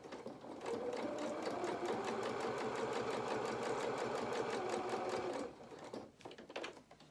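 A sewing machine stitches felt doll pieces in a fast, steady, close whir for about five seconds, then stops, leaving a few soft handling clicks.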